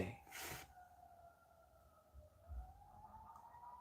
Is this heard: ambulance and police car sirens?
yes